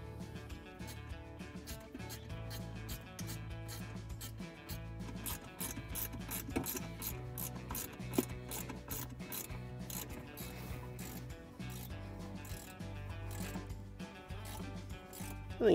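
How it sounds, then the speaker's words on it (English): Ratchet tightening self-threading screws into the nuts of a Roush vault in a 2021 Bronco, a close, continuous run of rapid clicking pawl ratchet strokes with metallic rubbing, no talk. "you put these self-threading screws in and then tighten them down"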